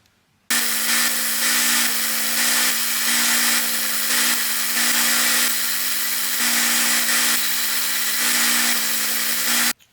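A power sander works over small wooden pieces for a beginner home decor project, a loud steady whine with a low hum running nearly the whole time and slight pulsing as pressure shifts, with no voices.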